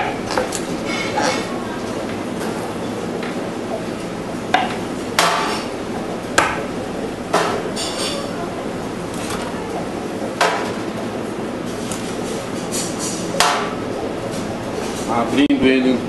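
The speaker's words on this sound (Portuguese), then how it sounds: "cortando os pezinhos." A knife and cleaver chop the feet off a roast suckling pig on a restaurant board, sounding as scattered sharp knocks and clinks at irregular intervals while someone talks throughout.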